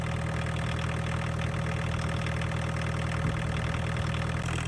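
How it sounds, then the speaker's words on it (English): Diesel engine idling steadily after running out of fuel or a fuel filter change, with air being bled from the fuel system; a close, constant rumble with a fine, even knock and no talking. "So I'm now going to let it run for a little bit, get all the air kind of pumped out of the fuel pump."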